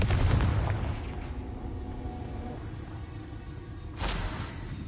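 A Confringo fire spell blasting in Hogwarts Legacy: a loud, booming, broadband burst that fades into a rumbling tail, then a second sharp blast near the end.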